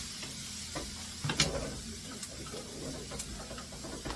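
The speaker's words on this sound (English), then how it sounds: "Throw the garlic in there, and cook down a little while." Garlic sizzling in a pan for homemade meatballs, a steady frying hiss with occasional sharper pops and scraping stirs, fairly close and continuous without talk.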